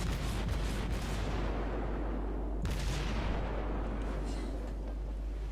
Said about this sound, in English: And someone's shooting me.